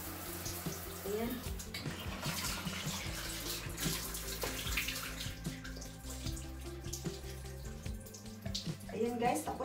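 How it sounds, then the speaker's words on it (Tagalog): Shower water running steadily after a swim at the beach, a continuous splashing hiss with faint background sounds and the occasional voice. "Tapos na akong mag-shower."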